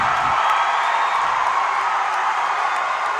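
A basketball crowd roars in the closing seconds of a college conference title game, a loud, sustained wall of cheering and whooping from a packed gym with no letup.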